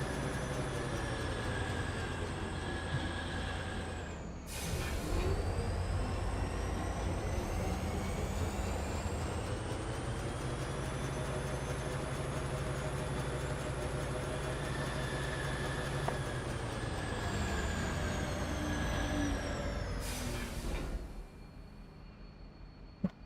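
A train in the video game Foundry runs steadily, giving a loud, continuous mechanical rumble with high whining tones. It cuts out briefly, resumes, then drops away near the end.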